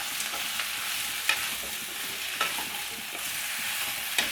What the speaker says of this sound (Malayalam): ഒരു 5 മിനിറ്റ് എണ്ണയിലിട്ട് നമുക്കിതൊന്ന് ചെറുതായിട്ടൊന്ന് വഴറ്റിയെടുക്കാം